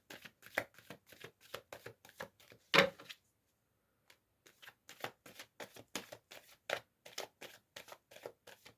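Tarot cards being shuffled by hand in rapid, rhythmic bursts of papery riffling and slapping, close and clear, with a short pause midway before the shuffling resumes; no one talks.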